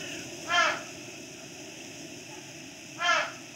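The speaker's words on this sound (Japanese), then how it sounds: "カラスの鳴き声は不幸の前触れ。" Crows in the Fishing Vacation video game caw twice, each a short harsh call about two and a half seconds apart, over a steady quiet ambient background.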